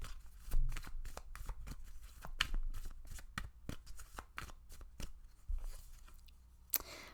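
Tarot cards being shuffled and drawn for a pick-a-card reading, a rapid run of crisp riffling snaps and flicks, close and fairly steady, with a few heavier taps near the end and no voice.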